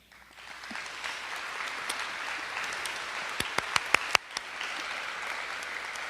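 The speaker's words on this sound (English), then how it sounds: "I will be sure to let her know the awesome applause that she just received" Sustained audience applause at a high school senior academic awards ceremony, steady clapping from a crowd in a hall that swells quickly and holds level, with a few sharper nearby claps standing out near the end.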